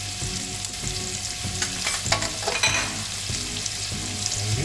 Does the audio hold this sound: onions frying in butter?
yes